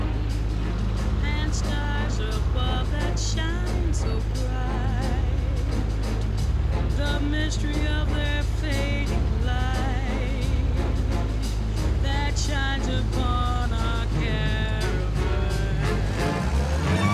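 Car engine in The Saboteur video game, a steady low drone heard slightly muffled beneath louder music playing over it, with the engine tone holding constant throughout.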